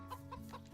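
Chickens in the farming video game Story of Seasons: Friends of the Great Kingdom make a few soft, quiet clucks over a low background hum, with no one talking.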